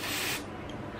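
A fine sunscreen spray mist hisses briefly from an aerosol nozzle up close, a soft steady burst that fades into a quieter airy tail.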